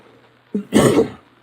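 A single throat-clearing cough, preceded by a brief short vocal sound, close and fairly loud in a quiet room.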